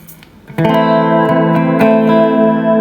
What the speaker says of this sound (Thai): ก็จะเป็นเสียงคอรัสหรือ